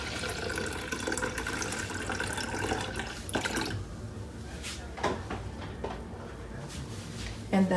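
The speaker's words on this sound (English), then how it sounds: "I'm going to fill it the rest of the way up with water." Water runs steadily from a tap into a container for a few seconds, then stops, followed by a few soft clinks and drips nearby.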